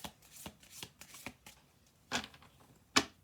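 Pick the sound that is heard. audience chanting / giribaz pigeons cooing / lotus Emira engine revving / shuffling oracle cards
shuffling oracle cards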